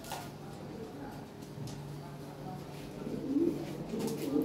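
A Lahori Sirazi pigeon coos at close range in a few low, throaty phrases, growing louder toward the end, over a steady background hum.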